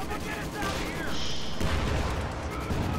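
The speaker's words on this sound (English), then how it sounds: "Sherman is firing on some stuff." Sherman tank fire in a strategy video game, a loud booming blast and rumbling gunfire that swells midway and lingers, heard with battle noise and a commentator's voice over it.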